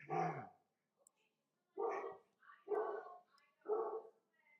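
A dog barks indoors in four loud, separate bursts with short gaps between them. No one speaks.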